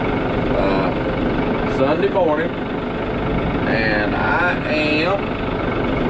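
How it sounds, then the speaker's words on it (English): A tractor engine runs steadily throughout, riding out to a cornfield on an October morning, a continuous close low drone with someone talking over it the whole time. "riding the tractor over to the field corn"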